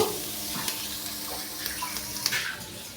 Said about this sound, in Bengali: পেঁয়াজ কুচি আর রসুন কুচি দিয়ে দিলাম আমি সসটা বানাচ্ছি তেজ এবং সসটা বানাচ্ছি এটাকে একটু আমি ব্রাউন করে ভেজে নেব